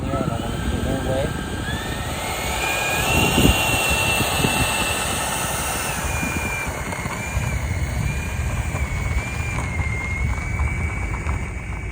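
An FMS F-86 Sabre 80mm EDF RC jet taxis on a runway, its ducted fan whining steadily with a gliding pitch under continuous wind and outdoor noise.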